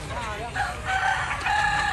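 On a free-range desi poultry farm, a rooster crows in a rising, drawn-out call over a busy background of chickens and chatter, with people talking nearby.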